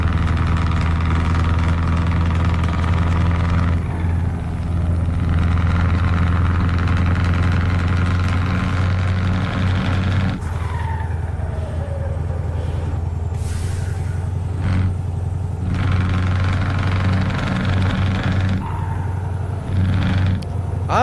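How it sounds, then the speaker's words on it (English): A heavy truck engine in Euro Truck Simulator 2 with a Z-Mods engine sound mod idles and rumbles steadily and loudly throughout, with small shifts in pitch and no talking. "I definitely like the Z-Mods engine, like more natural sounding"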